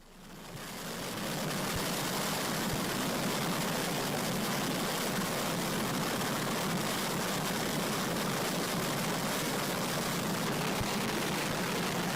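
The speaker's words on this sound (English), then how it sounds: "using full afterburner while testing its engine, burning 11 liters or 3 gallons of fuel per second" Jet engine running at full afterburner on a ground test, a dense, roaring broadband blast that swells up over the first second and then holds loud and unbroken.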